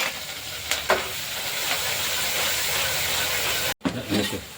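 Loud, steady sizzling of spices frying in hot oil, close up, with a brief break and a few stirring clatters near the end.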